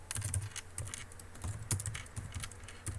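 Keystrokes on a computer keyboard as a caption is typed, a steady run of close, quiet clicks with small pauses and no talking.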